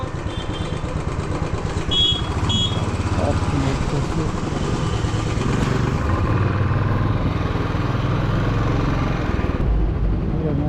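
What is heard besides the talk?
Royal Enfield motorcycle riding to bike parking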